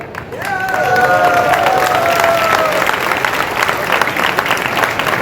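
A crowd claps in steady, sustained applause at a Jain religious discourse gathering in Agra, with a few whistles or cheers over the dense clapping.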